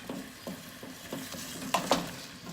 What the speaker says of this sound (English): now we're gonna let it saute for a few minutes, let all the aroma combine into the butternut squash